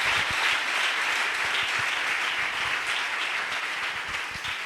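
A church congregation applauds loudly at a Pentecost service, with dense, continuous clapping that fills the space and tapers slightly toward the end.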